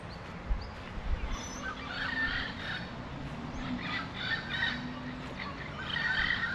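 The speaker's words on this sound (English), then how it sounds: "You can hear the parrots in the background." A flock of parrots squawks and chatters in the distance in a park in Port of Spain, Trinidad, overlapping harsh calls rising and falling over a low outdoor rumble.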